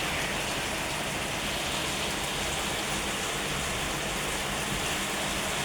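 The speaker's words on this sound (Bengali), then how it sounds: "হঠাৎ বৃষ্টির শব্দ।" A sudden, heavy downpour that gusts like a storm gives a steady, dense hiss of rain that stays constant throughout, with no voices.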